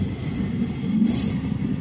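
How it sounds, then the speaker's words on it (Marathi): A train rolls through Ausa Road railway station, a steady close rumble of wheels and carriages filling the whole moment without a break, with no voices. "या ठिकाणी गाड्या खूप क्रॉस होत असतात."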